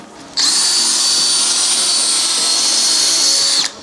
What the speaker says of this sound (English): Now we've got a battery powered brush, we can get it cleaned up double quick time.